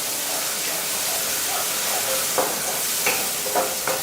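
Spices roasting in a hot pan for a potato and bell pepper curry, a steady bright sizzle and hiss broken by a few soft stirring scrapes, close up with no talking.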